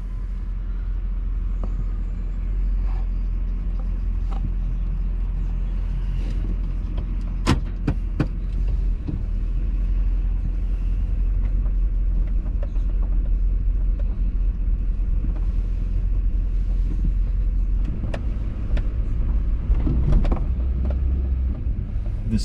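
A car cruises on Highway 16 through farmland, a steady low road and engine rumble from inside the cabin with occasional small clicks and knocks over the constant drone.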